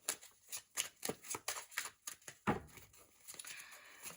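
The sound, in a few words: tarot cards being moved and shuffled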